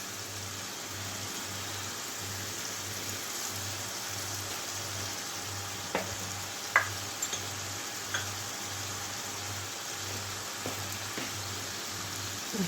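Meat sizzles quietly in a pan, a soft continuous frying crackle with a few sharp clinks and scrapes of stirring scattered through, over a low steady background hum.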